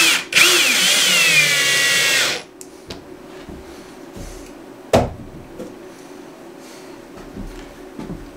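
A power drill whines loudly for about two seconds while driving screws to mount a carbon monoxide alarm in a small remote mountain house, followed by quieter handling knocks and a sharp tap.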